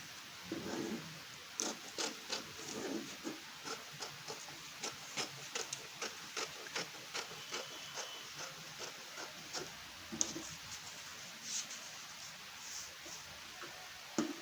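Scissors cutting fabric for a short sleeve, a quiet series of regular crisp snips and rustles repeating about twice a second, close but faint, no speech.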